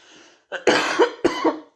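Several harsh, close coughs from one person come in quick succession after a brief quiet breath, loud and dry with a throaty rasp.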